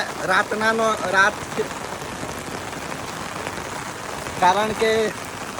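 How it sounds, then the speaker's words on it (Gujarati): Heavy monsoon rain falls during a flood in south Gujarat, a steady broadband hiss of downpour on surfaces. Voices talk briefly at the start and again near the end. "તો પણ હજુ વરસાદ આવ્યા જ કરતો છે"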